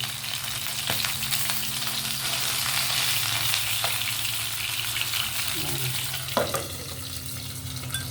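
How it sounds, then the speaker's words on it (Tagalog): Vegetables frying in a pan at home, a constant loud close sizzle with occasional faint knocks and stirring in the background. "Meron pa akong piniprito dito."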